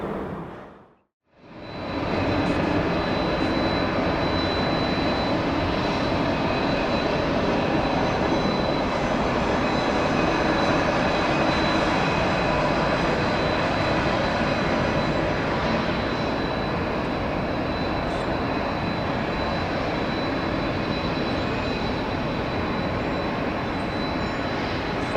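A jet airliner roars down runway 26 left on takeoff at Atlanta airport, a loud, steady, broadband engine rumble that builds within the first seconds and holds for over twenty seconds, with no talking.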